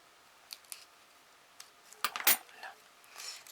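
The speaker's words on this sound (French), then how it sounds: "Je vais couper un petit bout là" Scissors snipping through EVA foam while trimming a craft star decoration, heard as a couple of quick, crisp cuts close by, with light handling clicks before and after and no talking.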